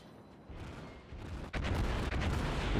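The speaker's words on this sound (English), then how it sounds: "And did you notice that ricochet?" A shell glances off a ship in a naval battle game, a sudden loud metallic crack and burst after a quieter rumbling lead-in, followed by a second, smaller impact.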